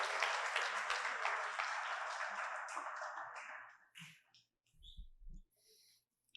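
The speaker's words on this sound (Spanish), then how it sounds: "Un aplauso a nuestros modelos," An audience applauds for about four seconds, then the clapping fades out and a few quiet breaths and shuffles follow.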